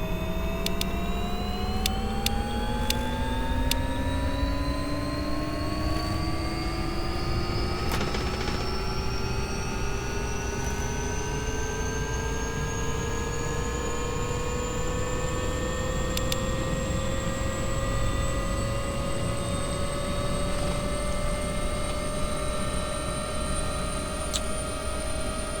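Twin aircraft engines in a flight simulator whine continuously, their pitch climbing slowly and smoothly as power builds, loud and even throughout with faint clicks scattered on top.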